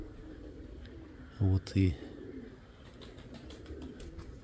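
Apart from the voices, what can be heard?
pigeons cooing at a dovecote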